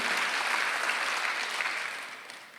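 Church congregation at a Sunday service breaks into a short burst of steady, even applause that fades slightly at the end.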